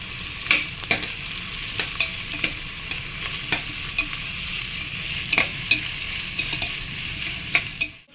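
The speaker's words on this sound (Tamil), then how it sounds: "இந்த வெங்காயமும் ஒரு ஃபிஃப்டி பர்சன்ட் மட்டும் வதங்கினா போதும்" Onions sauté in a hot pan for street-style mushroom fried rice, a close, steady sizzle broken by regular sharp scrapes and clanks of a ladle stirring against the metal.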